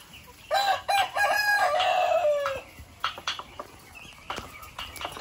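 A rooster on a chicken farm crows once, loud and close, with a long drawn-out call that falls away, followed by scattered clucks and farmyard noises.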